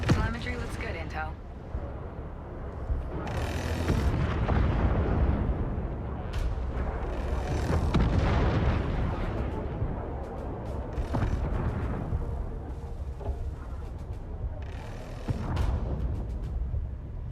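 Defense guns in the space strategy game Homeworld 3 rumble with deep booming bursts and rolling blasts under a steady background drone, while voices talk over the action.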